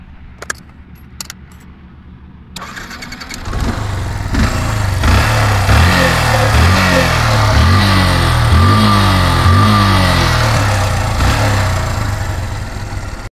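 Keys jingle and click before a Yamaha FZS V1 motorcycle fires up, settling into a loud, close idle with repeated throttle blips rising and falling over several seconds.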